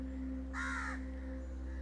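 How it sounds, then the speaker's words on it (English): A single crow gives one harsh caw of under half a second, fairly clear over a steady low electrical hum. "You also hear the omen of crow, which is Saturn."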